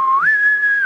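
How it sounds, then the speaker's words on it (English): A single loud whistle sounds aboard a spaceship in FTL: Faster Than Light, rising sharply in pitch, holding a clear steady tone, then dropping off at the end. "Do they use those whistles on spaceships?"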